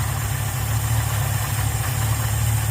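A Ford Fairlane engine fitted with a Holley 500 CFM two-barrel carburetor idles smoothly, a steady low rumble close by with no change in pitch and no voices.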